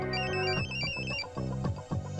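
A melodic electronic ringtone plays close by, a bright repeating tune with steady rhythmic notes and no talking.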